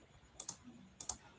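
Two short bursts of computer keyboard typing, each a quick pair of crisp key clicks, spaced about half a second apart, close and fairly quiet against a soft room hum with no talk.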